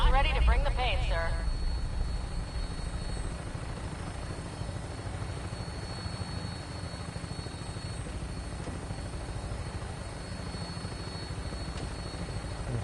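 Aircraft lifting off in Fallout 4, a continuous low droning engine rumble that holds steady throughout, with a brief voice heard at the start over the noise.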